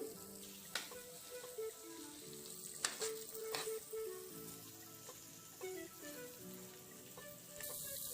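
A dates pickle with ginger and garlic sizzles and fries in a pan, a soft continuous crackle with occasional stirring scrapes, nearby and fairly quiet.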